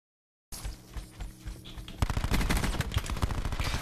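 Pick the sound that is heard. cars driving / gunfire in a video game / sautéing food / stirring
gunfire in a video game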